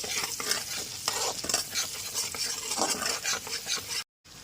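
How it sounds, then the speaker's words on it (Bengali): Chopped garlic and green chili frying in a pan, a steady sizzle broken by stirring scrapes and taps, close and alone with no talk, cutting off briefly near the end. "রসুন আর কাঁচা লঙ্কাটা খুব ভালো মতো একটুখানি ফ্রাই করে নেওয়ার পর"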